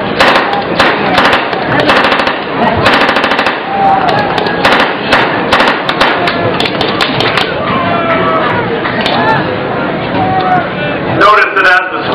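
Sustained bursts of machine gun and rifle fire crack loudly and fast during an army squad assault demonstration at a family day event. The shots come in dense, overlapping volleys while a voice narrates over them.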